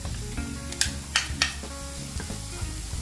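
Garlic sizzles steadily in a pan for Jamaican beef patties, with a few sharp scrapes and taps of a utensil breaking through the close, continuous frying hiss; no one speaks.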